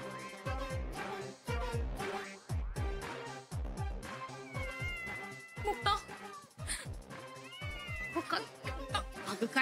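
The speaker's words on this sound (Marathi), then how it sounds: "मांजर आहे ते." A domestic cat meows repeatedly and loudly, with some drawn-out caterwauling cries, over background music in a Marathi TV serial scene, with people talking around it.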